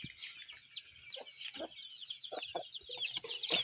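Hens cluck in short bursts close by while chicks keep up a constant high peeping throughout.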